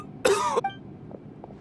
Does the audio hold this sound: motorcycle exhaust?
no